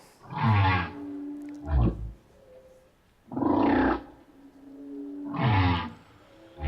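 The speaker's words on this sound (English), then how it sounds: "So that's the humpback whale." Humpback whale song, three long moaning and roaring calls with a short grunt between them, loud and resonant, separated by pauses and heard alone.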